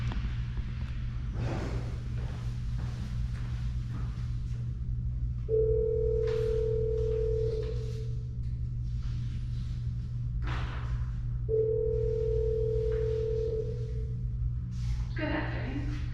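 Steady telephone tone heard when calling a city office from an admin phone, two sustained beeps each lasting about two seconds, over a constant low electrical hum with faint background voices.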